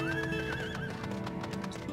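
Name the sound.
horse neighing and hooves in Final Fantasy XIV video game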